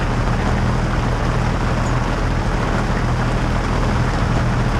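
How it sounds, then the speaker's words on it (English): Steady heavy rain drums on a sailing boat off Jersey in the Channel Islands, a dense continuous hiss close by with a low rumble beneath and no voices. "rain and more rain"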